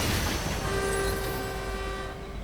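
A train in a video game rumbles past loud and close, a broad rushing roar with a sustained horn-like tone riding over it before fading slightly.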